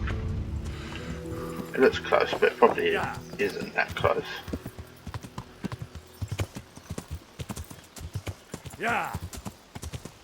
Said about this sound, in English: Let's get the horse.